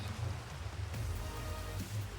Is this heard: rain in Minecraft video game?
yes